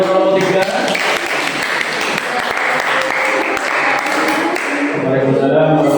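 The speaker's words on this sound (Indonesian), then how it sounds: "Tepuk tangan untuk kelompok 3." A class of students gives a short, lively round of clapping for a presenting group, dense and close, with voices talking over the start and end.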